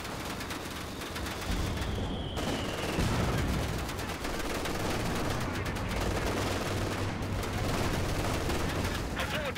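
In Company of Heroes 2, battle noise is loud and dense: rapid gunfire and heavy booms from an anti-tank gun roll on with little pause, with distant voices here and there.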